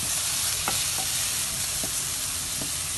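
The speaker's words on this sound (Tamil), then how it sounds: "மிளகாயை இப்பொழுது இதை நன்றாக கிண்ட வேண்டும்." Chillies and carrot are stirred in a frying pan for nasi goreng, a constant soft sizzle of hot oil broken by a few light scraping strokes of a spatula.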